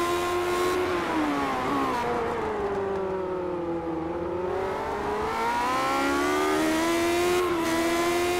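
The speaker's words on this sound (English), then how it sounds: "Just listen in to the engine here." Race car engine in the iRacing sim during a retro series Grand Prix at Monterey, a loud, sustained roar rising and falling in pitch as it revs through the gears, with no speech.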